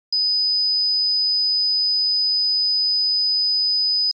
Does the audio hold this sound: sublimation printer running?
no